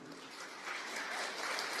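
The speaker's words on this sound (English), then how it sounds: "So the reason why these kids are clapping" Children clapping together, a faint, steady patter of applause that swells slightly partway through the short moment.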